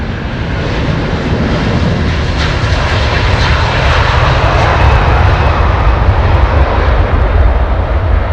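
An Airbus A330neo jet takes off at London Heathrow, a loud, continuous engine roar close by with dense rumble, sustained without break.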